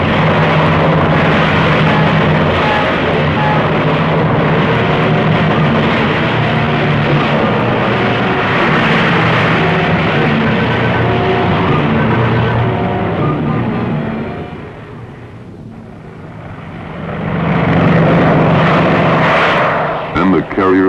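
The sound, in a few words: B-25 bombers taking off from aircraft carrier Hornet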